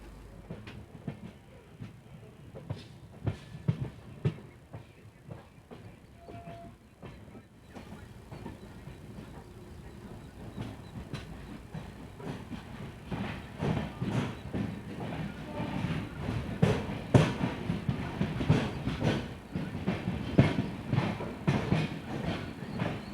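Jan Shatabdi Express passenger train pulling away from Birur on the Birur–Talaguppa branch line toward Shivamogga, wheels clicking over rail joints in a steady, rising clatter with deep rumble, heard from on board.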